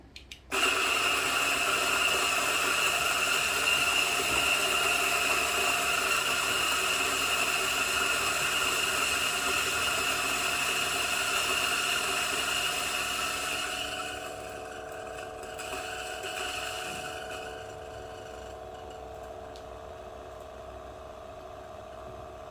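A DF64 grinder fitted with SSP burrs grinds espresso beans for a Cafelat Robot, a loud steady whirring motor drone with gritty crunching that runs about fourteen seconds, then drops to a quieter lingering spin-down hum with no talk.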